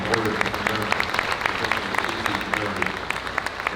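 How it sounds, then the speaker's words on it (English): A crowd at a state fair livestock auction claps steadily throughout, a dense patter of applause that neither builds nor fades. "let's give all these superintendents a round of applause for keeping things in order."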